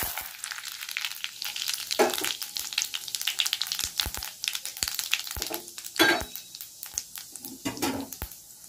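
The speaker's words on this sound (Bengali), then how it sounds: "এগুলো একটু ভেজে নেব" Cumin, bay leaf and dried chili sputter and crackle in hot oil as a tempering for a prawn and taro curry, a steady close sizzle with sharp pops and a few utensil clinks against the pan, no voices.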